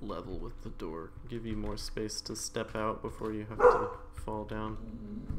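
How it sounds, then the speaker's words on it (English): A dog barks in the background at moderate volume, a few sharp barks and yips heard under continuous close speech from a person talking. "excuse the dog in the background"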